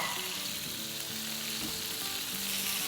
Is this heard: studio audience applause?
no